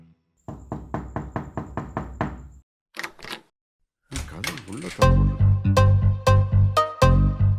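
Knocking on a door in a series of sharp, evenly spaced raps, loud and close, then a pause before heavier repeated knocks resume alongside a voice talking.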